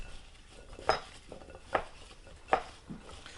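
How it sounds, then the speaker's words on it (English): Seasoned food being tossed and mixed by hand in a bowl, with three distinct soft clatters and squelches spaced about a second apart over a quiet kitchen background. "Now we're going to get right in there and mix that all on and get those all coated."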